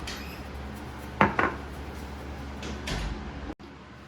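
A utensil stirs pistachio cream into a mixture in a bowl for a chocolate whoopie pie filling, giving a soft continuous scrape with a few sharp clinks against the dish. The sounds are quiet and close.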